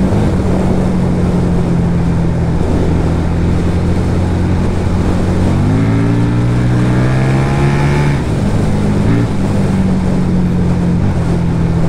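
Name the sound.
FKM Victori 250cc V-twin classic motorcycle engine running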